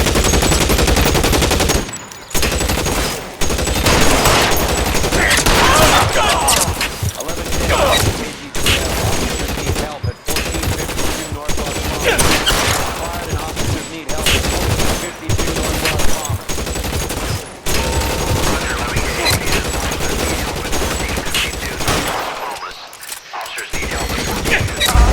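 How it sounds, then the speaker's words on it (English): Sustained, loud gunfire from a shootout in the L.A. Noire video game, with dense bursts of rapid shots and short pauses throughout, and faint voices mixed in beneath the shooting. "Why is he shooting?"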